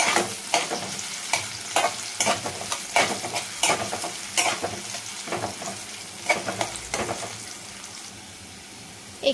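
Finely chopped raw mango tossed in a pan with garlic, chilli and cumin, sizzling steadily while a spatula scrapes and stirs in quick, irregular strokes close up, with no voices.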